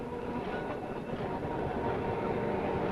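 A South London tram rolls past in the early morning of the 1950s, a continuous low rumble and rattle of wheels on rails, fairly close and steady throughout.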